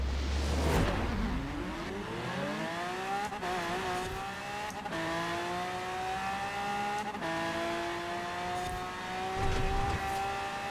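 On a racing video game drag strip, a car engine revs up in rising sweeps, holds a buzzing pitch against the rev limiter and drops briefly at gear changes, loud and continuous.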